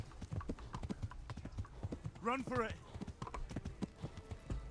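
Horse hooves clip-clop steadily in the Kingdom Come Deliverance video game, a rhythmic run of hoofbeats with a whinny in the middle, while someone talks over it.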